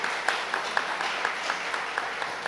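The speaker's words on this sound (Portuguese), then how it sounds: "eu peço uma salva de palmas também." An audience applauds in an auditorium at a public talk on citizen security. The clapping is light and fairly distant, a soft wash with a few sharper claps standing out at a steady rhythm.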